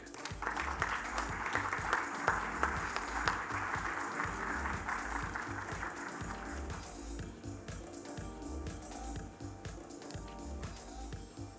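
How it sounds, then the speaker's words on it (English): Applause at a research awards ceremony, clapping from an audience strongest in the first several seconds and then thinning out, heard fairly faintly against a low, rhythmic background pulse. "let's give another round of applause to all our recipients"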